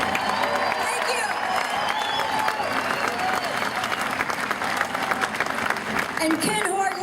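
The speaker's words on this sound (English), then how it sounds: "Can we give Craig some applause?" Audience applause and cheering at a Tea Party political rally, loud sustained clapping from a large crowd with whoops and shouts mixed in and voices talking through it.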